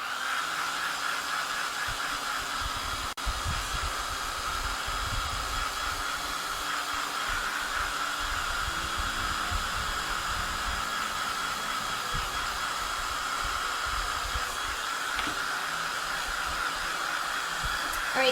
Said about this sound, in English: so we're just drying this because we have to put that second layer on top